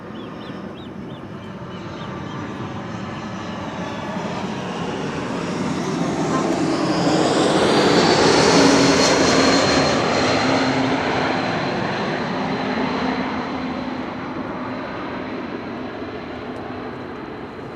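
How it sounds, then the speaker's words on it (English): A KLM Boeing 787-9 Dreamliner arrives at Amsterdam Schiphol. Its jet engine roar swells as the plane approaches, peaks loudly overhead midway, then fades slowly, with a voice talking faintly underneath. "have KLM flight 789 arriving from Georgetown, which also is a Boeing 7879 Dreamliner"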